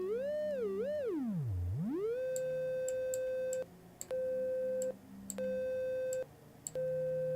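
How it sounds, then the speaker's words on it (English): A triangle-wave synthesizer tone from VCV Rack swoops down in pitch, then holds steady. It cuts out briefly several times and resumes each time, sounding soft, bright and buzzy, with no talking. "let's try the triangle wave again. Way softer, because again, it has much fewer harmonics"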